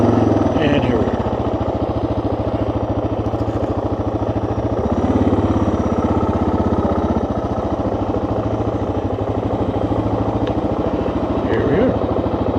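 A 2024 Suzuki DR 650 single-cylinder motorcycle runs steadily throughout at close range with an even, continuous engine drone, and speech is also detected over it.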